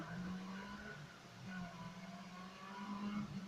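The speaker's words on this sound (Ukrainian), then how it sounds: "Газуємо, газуємо на пріорі." A Lada Priora in the Need for Speed racing game, engine droning steadily at high revs with squealing tire noise, a continuous loud game mix with no talk.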